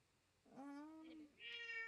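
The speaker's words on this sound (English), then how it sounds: "it's not a chirp; it's a full-on meow." A sleeping cat gives two soft, close meows in quick succession, the first drawn out and falling, the second higher and brighter, in an otherwise quiet room.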